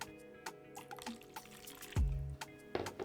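Soy sauce pours into a mixing bowl for a cold pasta sauce made with laver pesto, a brief liquid splash and trickle heard close up among small kitchen clatters.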